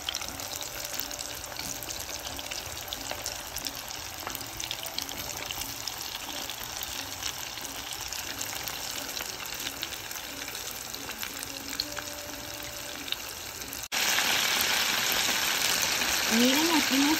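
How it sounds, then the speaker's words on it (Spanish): Chicken wings for spicy buffalo wings frying in hot oil, a dense continuous crackling sizzle, close and steady, jumping louder near the end; no talk over it. "Miren aquí nuestras alitas cociéndose y dorándose"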